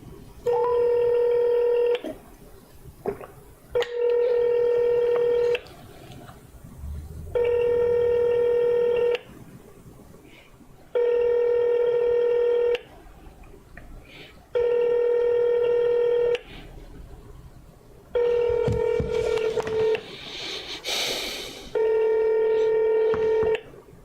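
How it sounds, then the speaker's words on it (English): A phone placing a call to family sounds a loud, steady electronic tone in repeated bursts of about two seconds with short gaps between, with faint background noise and brief talk between bursts. "Hold on, let me call my mother."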